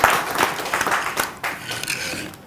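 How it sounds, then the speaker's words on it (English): An audience at a university courtesy visit gives a professor another round of applause, a dense wash of clapping that dips briefly midway and continues at moderate loudness. "Please, another round of applause for Professor."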